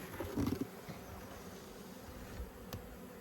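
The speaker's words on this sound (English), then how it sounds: "And we'll shake the last of these bees in." Honeybees buzz in a dense, steady drone with a brief louder burst near the start as they are shaken from a box into a hive.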